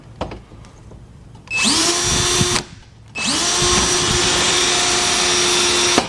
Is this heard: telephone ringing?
no